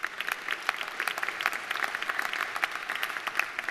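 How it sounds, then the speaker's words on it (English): Applause from an audience at a university campus ribbon cutting, many individual claps audible as crisp, fairly quiet, irregular pops throughout. "I'd like to give all those board members and Michael Freemuth a round of applause as well"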